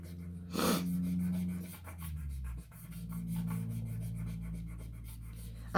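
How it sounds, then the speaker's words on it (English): A planner sticker is burnished down on a classic Happy Planner page with steady, close rubbing and scratchy strokes that pause briefly midway and then resume. "I'm just burnishing that sticker down."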